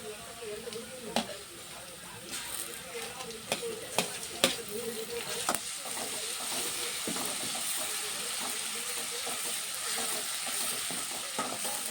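Ginger garlic paste sautéing with onions in a pan, a steady low sizzle with occasional sharp scrapes and clinks of a spoon stirring, continuing throughout.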